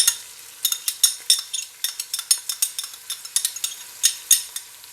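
A spoon stirs chopped green onion in a pan for Punjabi kadhi pakora, a steady run of quick metallic scrapes and clinks with light sizzling between them, close and distinct without talk.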